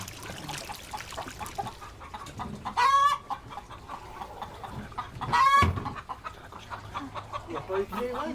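Hens kept in a backyard flock cluck in a continuous, moderately loud texture, with two louder squawking calls rising out of it, while faint background voices murmur.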